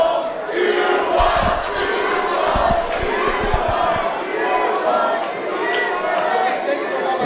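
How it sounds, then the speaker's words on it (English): A wrestling crowd jeers and shouts at a performer named Taurus, a loud, sustained roar of voices with heavy thumps from the ring, under an announcer talking over it. "Crowd getting on the case of Taurus now"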